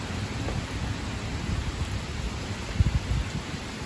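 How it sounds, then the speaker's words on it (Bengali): Heavy rain pours during a storm in Laksam, Comilla district, as a dense, even hiss of rainfall with a low rumbling undertone, fairly quiet and continuous, with no talking. "কুমিল্লা জেলাতে লাকসাম থানা খুবই ভয়াবহ বৃষ্টি হইতেছে"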